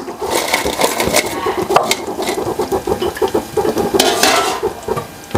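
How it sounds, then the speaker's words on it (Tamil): Fried paneer cubes go into a boiling spinach palak gravy and a spoon stirs the pot, giving steady scraping and clinking of metal against the pan over a soft bubbling simmer, close and fairly loud, with no talking. "இப்போ பன்னீர் வறுத்ததை இதில் சேர்த்துக்கலாம்"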